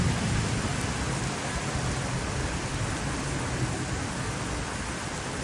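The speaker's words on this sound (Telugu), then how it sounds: "చూసేద్దాం పదండి ఎలా వర్షం పడుతుందో సింగపూర్‌లో" Rain falling steadily in Singapore, an even, close hiss of drops with no break or change and no voices.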